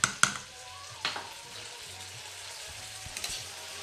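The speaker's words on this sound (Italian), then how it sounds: "La faccio venire a cuocere qui dentro la padella." Pasta cooking in a frying pan with fried potatoes and tomato gives a soft continuous sizzle, punctuated by a few clinks and scraping stirs near the start and end.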